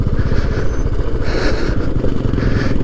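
A motorcycle being pushed backward at high altitude near the Rezang La war memorial, its engine idling with a steady low rumble and some clatter, loud and close throughout.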